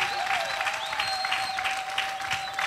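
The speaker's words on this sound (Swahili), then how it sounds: "mpigie makofi sana." Sustained loud hand clapping from a church congregation, a continuous dense wash of claps with a steady held tone running beneath it.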